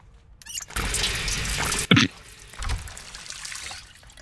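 Water running from a sink tap in Project Zomboid as a character drinks, a steady broadband trickle lasting over a second, then a brief gurgle and splash, with quieter water sounds trailing after.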